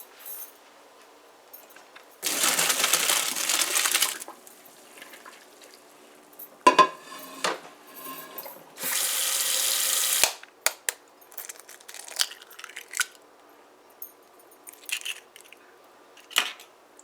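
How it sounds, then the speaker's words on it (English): Cooked egg ramen noodles are strained, with two long rushes of pouring water and scattered metallic clinks and clatters of pot and utensils in between, close and fairly loud. "we're gonna go strain this now."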